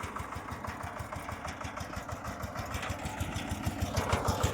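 A tractor's diesel engine chugs steadily at a low, even rhythm while reversing, revving slightly toward the end; no voices.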